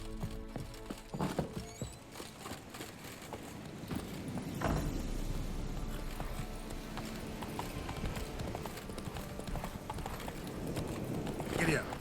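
Horse hooves clip-clop at a steady walking rhythm in The Witcher 3 video game, close and continuous across the whole stretch, with louder hoof strikes near the start and end over an ambient game soundscape.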